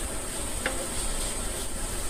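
Sausage and spice egg-roll filling fries in a pan on a gas stove, a steady close sizzle and hiss with a faint stirring scrape partway through.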